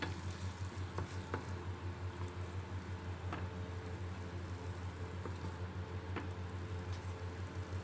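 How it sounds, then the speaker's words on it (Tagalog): Sauce with ground meat simmers in a pan for steamed soft tofu, giving a quiet, constant bubbling sizzle with a low rumble and occasional small pops, and no voices. "Pakuluan lang po natin hanggang maging sticky yung kanyang sauce."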